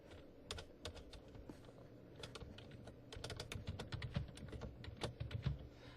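Rapid, steady typing on a computer keyboard, dense clicking keystrokes throughout at close range, growing slightly louder toward the end, with no voices.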